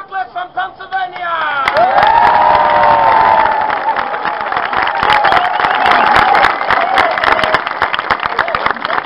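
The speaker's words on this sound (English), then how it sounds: "please give him a big round of applause" A crowd at the Nyborg medieval market cheers and applauds for a street entertainer, with whoops and shouts rising over sustained clapping that stays loud throughout.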